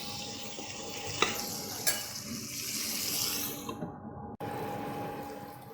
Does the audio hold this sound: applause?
no